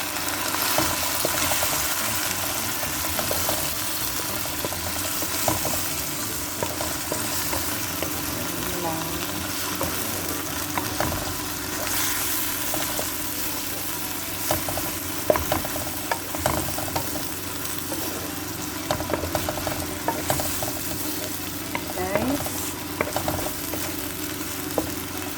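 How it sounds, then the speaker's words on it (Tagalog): Shrimp for pancit canton fry and sizzle in a pan, with scraping stirs and clinks now and then over a steady crackle, while a voice speaks at times. "Fried lang natin ng kaunti."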